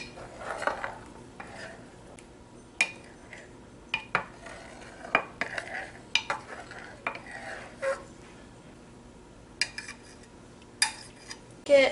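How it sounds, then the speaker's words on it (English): A butter knife swirling cream cheese produces soft, intermittent scraping and clinking taps against a dish or pan, scattered irregular strokes fairly close and quiet, with no speech. "I'm just going to take a butter knife. And I'm just going to swirl around the cream cheese."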